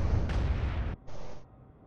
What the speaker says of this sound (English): See how our laser guided bomb does.